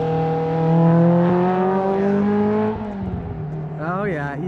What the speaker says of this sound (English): Oh, check out another car coming by.